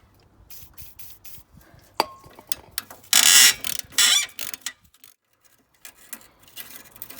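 A wrench works a bolt loose on the exhaust of a Honda VFR800 VTEC motorcycle, giving scattered close mechanical clicks and ratcheting with a louder grinding burst midway, then quieter taps.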